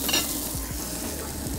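Steady oily sizzling and crackle of potatoes frying in oil in a pan, with a few stirring scrapes, close and continuous with no talking.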